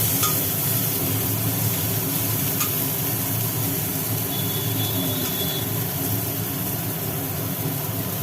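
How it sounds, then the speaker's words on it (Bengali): Constant, low hissing sizzle of bitter gourd frying in a pan, fairly quiet, with faint clinks now and then and no talking. "ভাজা হোক উচ্ছেগুলো"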